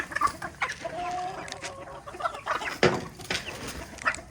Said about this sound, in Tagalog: Gutom na gutom yung mga manok natin.